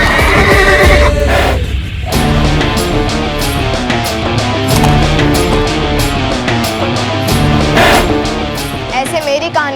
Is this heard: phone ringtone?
no